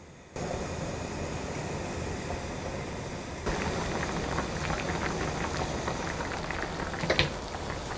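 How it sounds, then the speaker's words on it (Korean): Kalguksu noodles boil in a spicy beef and mushroom broth, giving a steady, dense bubbling and simmering hiss that runs throughout, with a brief utensil clink near the end. "자, 면이 익을 때까지 끓여주시면 됩니다."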